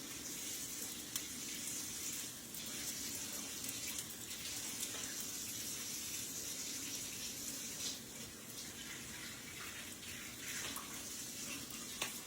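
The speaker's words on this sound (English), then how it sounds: "Give my hands a wash." Hands are washed under a running kitchen tap, a steady close rush of water with small splashes and shifts in the flow, continuing without pause and no speech.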